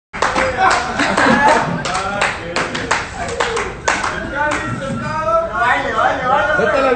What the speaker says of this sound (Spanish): Métale el aplauso, métale el aplauso.